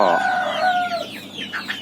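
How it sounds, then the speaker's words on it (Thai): A big-footed chicken on a poultry farm gives a loud, drawn-out call followed by several short clucks, close by with no talking. "นี่ไก่ตีนโตนะครับ"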